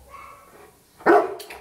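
A dog gives a single sharp bark on command during clicker training, loud and close, following a quiet stretch of low background noise.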